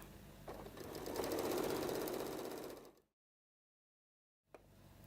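A sewing machine stitches binding onto a quilt in one steady whirring run of about three seconds, then stops dead into silence before a faint click and light handling noise.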